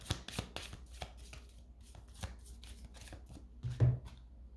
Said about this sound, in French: Les cartes volent partout.